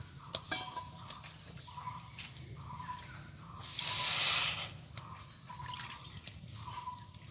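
Water poured into a kadai to make sugar syrup, a soft trickle and splash that swells briefly in the middle, with a few light metallic clinks of utensils before and after.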